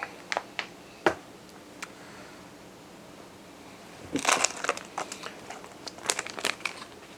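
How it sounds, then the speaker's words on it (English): Crinkling plastic of a zip-top bag holding freeze-dried vegetables as it is pressed shut, a few sharp snaps and rustles early, then a denser burst of crinkling near the end, close and fairly quiet. "So we'll Ziploc that shut and set that aside."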